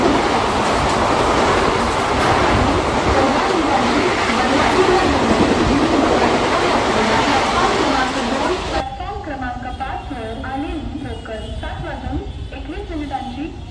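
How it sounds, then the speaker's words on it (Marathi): Loud roaring rumble of a fast Mumbai local train rushing through Dombivli station close by, wheels clattering, then the noise drops suddenly to a lower rumble as an announcement speaks. "एक जलद गाडी जाणार आहे, कोणीही रेल्वे लाईन ओलांडू नका।"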